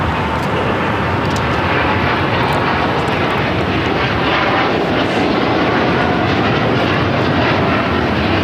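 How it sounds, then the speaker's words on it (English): A Japan Airlines Boeing 787-9 Dreamliner takes off from LAX, its jet engines producing a loud, steady roar that stays constant and broadband throughout, with no voices over it. "This is Japan Airlines Flight 15 taking off to Tokyo Haneda on the 787-9 Dreamliner."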